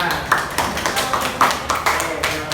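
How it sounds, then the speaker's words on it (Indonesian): Children clap in a classroom, a loose, uneven patter of hand claps with a few sharper peaks, close by over a noisy room with voices underneath. "Oke, tepuk tangan."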